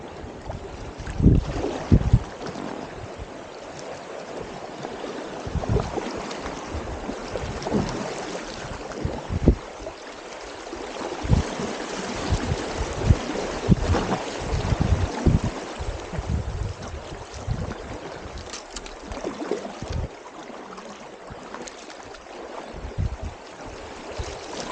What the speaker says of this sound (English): There's a creek flowing in.